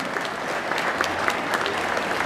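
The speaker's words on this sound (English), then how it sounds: "And while you guys clapping, please," Audience applause honoring talent search contestants at a grille venue, steady dense clapping from a crowd throughout, fairly close and even in level.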